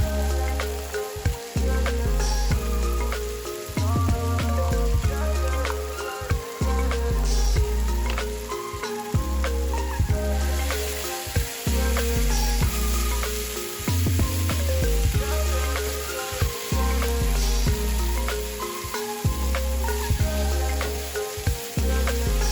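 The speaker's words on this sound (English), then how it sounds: "Continue to cook and stir the tomato paste for about 2 to 3 minutes." Tomato paste sizzles and fries steadily in a pan while being stirred, with repeated scraping strokes of the spoon through the continuous crackle.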